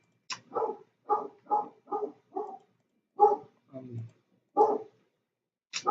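A pet dog barks over and over indoors, a steady run of close, loud barks with short gaps, then a lower growly sound and a few more barks.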